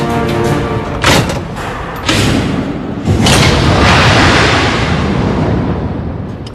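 Torpedo hits from a World War II Atlantic escort battle produce heavy booming explosions, a few rapid thuds followed by a loud sustained rumbling roar that fills the scene, close and powerful with no talk.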